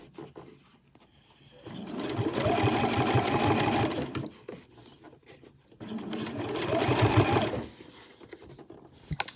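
A sewing machine stitches pom-pom trim onto a fabric cushion cover in two loud, close, rapid bursts of a few seconds each, separated by a quiet pause, with a few small clicks at the end.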